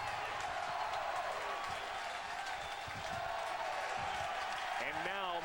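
Crowd at a college baseball game between LSU and UCI, a steady distant roar of cheering and murmur filling the stadium, with an announcer talking over it.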